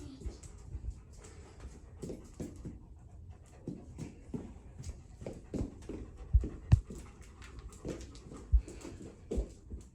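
A livestock guardian dog pants close by in a steady, rapid rhythm of soft breathy huffs, with occasional faint whimpers and a few louder thumps.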